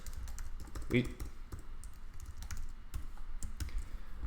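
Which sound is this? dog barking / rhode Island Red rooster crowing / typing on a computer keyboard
typing on a computer keyboard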